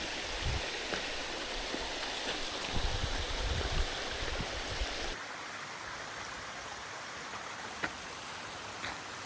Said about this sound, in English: So there's a lot of water right in there. Coming down, it's really loud.